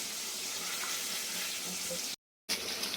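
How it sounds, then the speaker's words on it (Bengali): Hilsa belly pieces full of roe fry in hot oil, a close, steady sizzle that cuts out briefly before resuming. "পেটির ডিমওয়ালা মাছগুলো একটু বেশি করে ভাজতে হবে, এই জন্য একটু বেশি করে লাল লাল করে ভাজছি"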